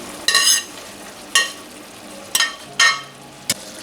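Eggplant hitting a hot wok for a shrimp and eggplant stir-fry, with four or five sharp bursts of tossing and sizzling, the final one shorter, each fading back to quiet between strokes.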